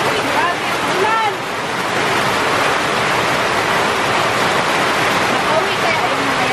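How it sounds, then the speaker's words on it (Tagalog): A heavy downpour roars loudly at a farm, a thick, continuous wash of rain with a few faint voice-like sounds mixed in. "Uy, grabe ang ulan!"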